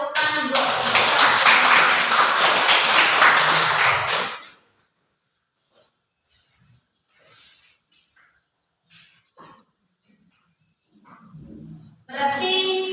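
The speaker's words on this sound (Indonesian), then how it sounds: "Tepuk tangan buat teman-teman." Students in a classroom burst into loud, dense applause for about four seconds, then it stops abruptly and gives way to near silence with scattered faint taps before talking resumes.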